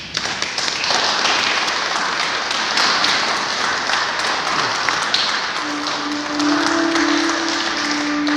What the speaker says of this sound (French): Je crois qu'on peut les applaudir.